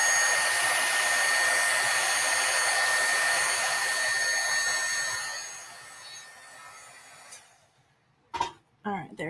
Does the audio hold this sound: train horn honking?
no